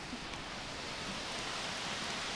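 Heavy rain pours down during a thunderstorm in a dense, even hiss, steady and unbroken throughout.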